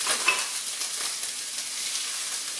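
Precooked jumbo shrimp being moved around a hot pan for an Asian stir-fry, a steady close sizzle with soft scraping and stirring accents running throughout, no voices.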